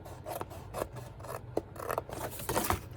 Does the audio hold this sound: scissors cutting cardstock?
yes